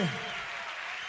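Audience applause in a Spanish-language radio broadcast studio, a brief steady wash of clapping throughout, with a voice briefly at the start.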